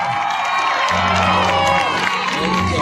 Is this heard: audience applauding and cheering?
yes